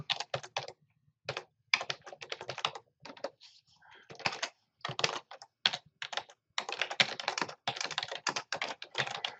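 Fingers type a header on a computer keyboard, steady close clicking in quick runs broken by brief pauses, fairly quiet with no voices.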